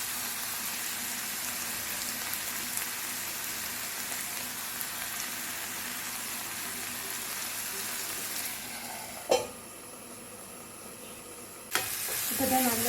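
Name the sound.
stirring clams roasting in a pan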